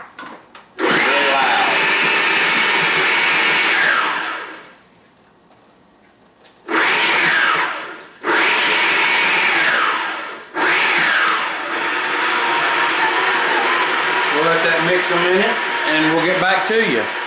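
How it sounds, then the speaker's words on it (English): A stand mixer whips peanut butter, sugar and cold salted sweet cream butter, loud whirring bursts that start, stop briefly and restart, with a motor pitch that shifts as the speed changes. "We'll close the mixer down"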